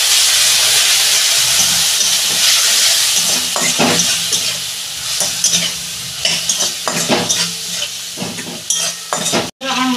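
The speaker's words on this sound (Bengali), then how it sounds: "আমি অল্প জল দিয়ে মশলাটাকে কষাবো।" A spice paste of turmeric and Kashmiri chilli powder fries with a little added water for a potato and pointed-gourd fish curry, giving a loud, steady sizzle with repeated scrapes and clinks of stirring and a brief drop-out near the end.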